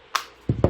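Plastic clicks ring out as the rear case of a Galaxy Note 10.1 2014 Edition is pressed onto the tablet. One crisp snap is followed by two duller, heavier clicks, all close and distinct, with no voices.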